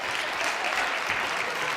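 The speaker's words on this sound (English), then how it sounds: "Round of applause for that." A college keynote audience applauds, a dense, even burst of clapping that fills the short moment at steady loudness with no talking over it.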